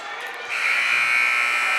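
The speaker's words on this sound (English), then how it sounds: "And there is the buzzer." An end-of-half buzzer sounds at a girls' varsity basketball game between Otter Valley and Proctor, a loud, steady electronic drone that starts half a second in and holds over a noisy gym crowd.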